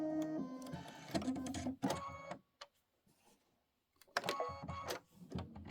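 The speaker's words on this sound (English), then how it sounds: "this is going to be a minute of stitching. And then we're going to go ahead and let it stitch." A Kimberbell embroidery machine stitches a quilt block in rapid mechanical bursts, whirring and tapping loudly up close, then briefly pausing before starting again.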